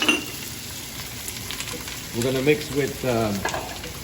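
Swiss chard sautés in a foaming pan, giving a steady low sizzle with occasional utensil clinks, while a voice speaks briefly in the second half.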